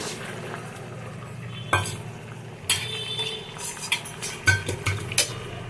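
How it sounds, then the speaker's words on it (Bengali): Fried bitter gourd is stirred into simmering shukto in a pan. A spoon scrapes and clinks against the metal in uneven bursts over a soft, steady sizzle, close up with no voices. "উচ্ছে ভাজাটা দিয়ে দেবো"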